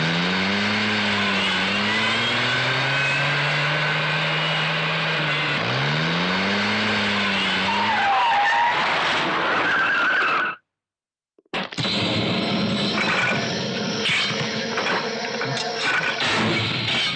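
A car engine revs and rises in pitch twice, followed by tires squealing into a skid, then a brief silence before a busy burst of engine noise and squeals resumes, loud and close, in an action movie scene.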